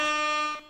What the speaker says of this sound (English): You're gonna get another air horn now.